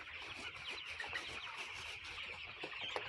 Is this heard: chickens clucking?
yes